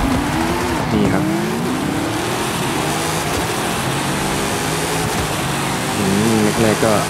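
Race cars in Forza Horizon 5, likely American muscle cars, roar past in a dense overlapping engine drone with rising and falling revs and occasional tire squeal, loud throughout while someone talks over it.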